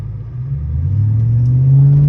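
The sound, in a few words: loud car engine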